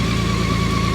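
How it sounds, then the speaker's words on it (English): BMW K1600GT six-cylinder motorcycle engine running steadily, a smooth, continuous close-up drone with an even low pulse and no breaks. "Gorgeous 6-cylinder power"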